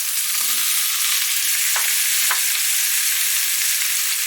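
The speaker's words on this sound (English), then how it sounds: "And then into that goes your onion." Onion and peppers fry in about half a tablespoon of oil in a pan, producing a constant, close sizzling hiss broken by two quick clicks partway through.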